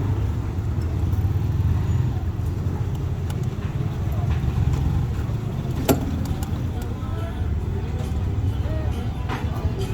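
Road traffic, including a motorised tricycle, rumbles steadily past an e-bike on a busy street, with a constant low engine hum and a few sharp clicks and knocks.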